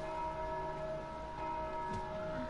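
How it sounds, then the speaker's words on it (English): Church bells toll in Dark Souls 2, a low sustained ringing drone hanging steadily under faint game ambience. "The bells are gonna get rung, whether you like it or not."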